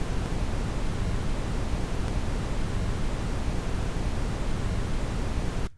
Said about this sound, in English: Now here comes brown noise.